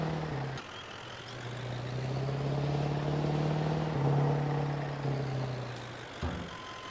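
A Duramax plow truck clearing snow in Farming Simulator 22 runs with a steady, loud engine rumble that swells and eases over a few seconds, with sharp knocks near the start and end.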